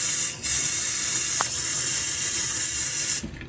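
A hotel room sink sprayer runs in a steady, close, loud hissing rush that holds for about three seconds before cutting off, with a faint click partway through.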